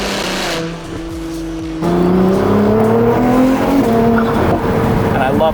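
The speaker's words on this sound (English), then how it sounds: "And I love that blow-off sound." A Ferrari 296 GTB with a titanium exhaust lets out a brief whooshing blow-off, then its engine note holds and climbs steadily, loud and close, with faint tire noise underneath.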